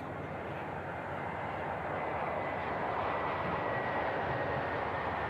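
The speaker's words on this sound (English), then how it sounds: "Lufthansa A321 on the touch." A Lufthansa Airbus A321 touches down at Manchester Airport, a broad, steady jet roar heard from a distance with a faint whine, building slightly in loudness as it lands.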